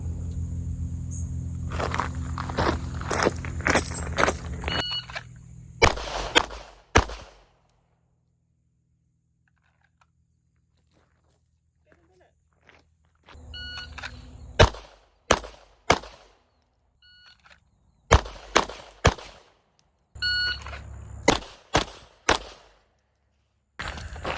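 Pistol gunshots during USPSA range drills outdoors: sharp cracks in quick pairs and clusters, separated by quiet pauses between strings, with a rumbling start at the beginning.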